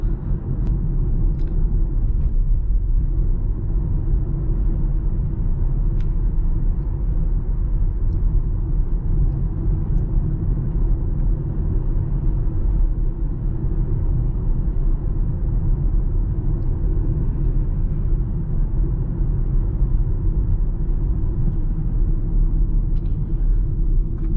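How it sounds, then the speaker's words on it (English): Steady low rumble fills the cabin of a 2020 BMW X1 driving with the air conditioning off, a constant road and engine drone with faint hiss above and only occasional small ticks, no talking. "The air conditioning is turned off. Right now is what you hear inside BMW X1 2020 model."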